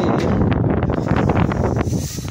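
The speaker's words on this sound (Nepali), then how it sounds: "यस्तो चाहिँ यति बेसी हावा चल्दैछ यहाँ चाहिँ" Strong wind buffets the microphone on a mountain trek near Sandakphu, a loud continuous rumbling roar with gusty flutters throughout.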